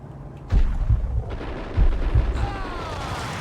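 Deep booming blasts from a grenade in the Max Payne shooter game, two heavy low thumps about a second apart that rumble over steady game noise.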